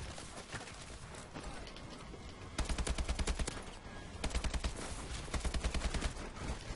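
Rapid automatic gunfire in a Call of Duty Advanced Warfare match, two fast bursts of evenly spaced shots over a busy game backdrop, fairly loud and close.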